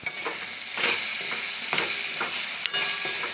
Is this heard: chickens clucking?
no